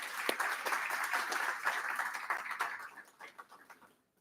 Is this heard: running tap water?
no